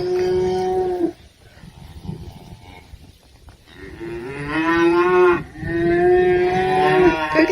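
Rescued cows mooing loudly and close, one long low moo followed by a pause and then two more drawn-out, rising calls from the herd.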